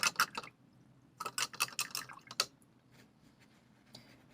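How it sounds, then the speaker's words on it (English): Paintbrush being rinsed in a water container while painting, giving several quick bursts of splashing and dripping near the microphone with quiet pauses between. "now what we're going to do is we're going to clean our brush."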